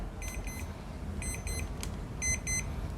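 Faint, high-pitched alarm beeps from an HTC-1 temperature and humidity meter clock, in short clusters of several pips, repeating over a low background hum.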